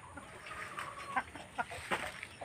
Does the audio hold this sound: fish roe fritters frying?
no